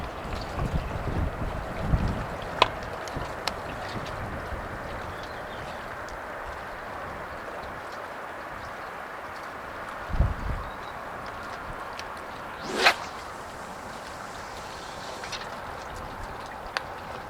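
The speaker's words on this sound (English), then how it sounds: "that's how windy it is" Wind buffets the microphone at Baulking Lake with a constant rumbling roar, broken by a few scattered thumps and a brief whooshing gust.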